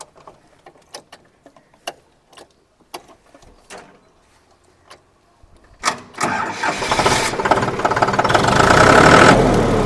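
Scattered clicks and knocks, then the diesel engine of a VST Zetor 5011 tractor cranks and roars to life nearby, settling into a loud, rough, clattering run.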